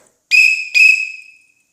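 A railroad conductor's whistle, sold at athletic stores, blown twice in quick succession: two loud, sharp, shrill close-up blasts, the second trailing off, with silence around them.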